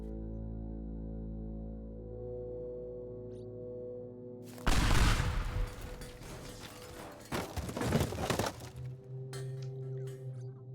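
Weapon shots fire in the game Teardown: after a steady low hum, a sudden loud crack bursts out, then a burst of crackling, rattling impacts and debris that fades into scattered clinks.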